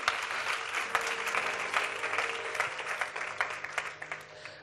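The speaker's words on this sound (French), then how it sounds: "oui, acclame le Seigneur pour sa parole" A church congregation claps loudly and continuously for the Lord, a dense, close wash of applause holding steady and starting to thin toward the end.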